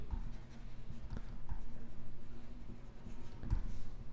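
A pen writes on paper in a quiet room during a math lesson, with faint scratching strokes and a few soft taps, no talk.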